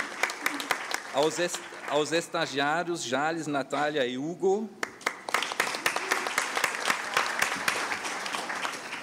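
An audience at a TEEB seminar claps through most of the stretch, first under a man announcing names, then alone as a crisp, sustained round of applause with individual claps standing out near the end.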